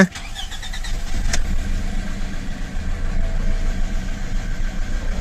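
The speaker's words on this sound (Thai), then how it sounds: "แล้วเริ่มทำการสตาร์ทเครื่องยนต์นะครับ" A Toyota Camry engine turns over with a brief starter whir after an immobilizer fix, then settles into a steady, low idle with a slightly uneven rhythmic chug.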